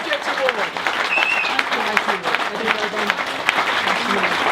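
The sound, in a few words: audience applause for award winners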